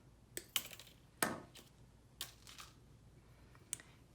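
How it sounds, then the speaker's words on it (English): Wire cutters trimming wire during assembly of a craft kit, a few sharp, quiet snips and clicks spaced irregularly in a hushed room. "And then I'll use my wire cutters to trim this."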